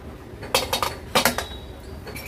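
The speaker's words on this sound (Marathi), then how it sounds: "झाकण उघडून बघूया" Metal clinks and clatters as a pressure cooker lid is opened in a home kitchen, two short bursts of sharp ringing clanks close by, with quiet between them.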